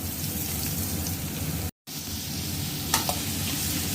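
Chayote cubes sizzle steadily in hot oil with a crackling hiss, broken once by a brief gap and a light clatter of stirring.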